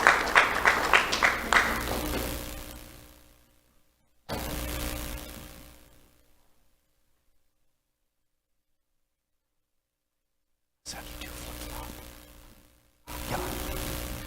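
An audience at a school awards ceremony breaks into brief, fairly quiet applause, with a few distinct claps at the start fading out, followed by a long silence and faint room noise.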